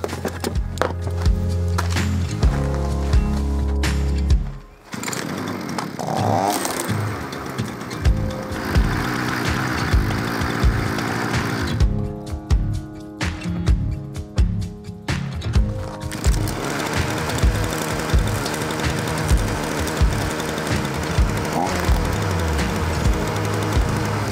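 A small two-stroke engine on a farm runs loud and close after its carburetor screw is tightened with pliers, a dense steady drone with brief dips.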